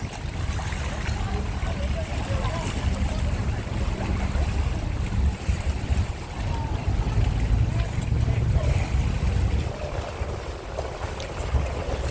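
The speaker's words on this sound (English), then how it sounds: "There's a boat coming alongside it." A boat draws alongside during a cruise on Halong Bay, its low engine rumble steady and close under constant wind and water noise.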